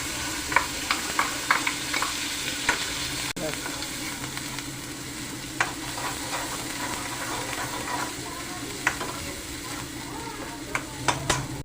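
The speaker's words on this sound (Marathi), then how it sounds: "मसाला चांगला तेल सुटेपर्यंत परतवून घ्यायचा." Ground masala paste frying in oil for shevga (drumstick) bhaji, a soft continuous sizzle broken by irregular spatula scrapes and sharp clinks against the pan, near and unaccompanied by talk.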